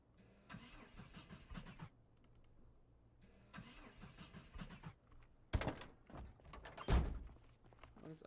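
Car engine in the video game Project Zomboid cranking repeatedly in two whirring bursts without catching, followed by sharp loud mechanical clunks near the end.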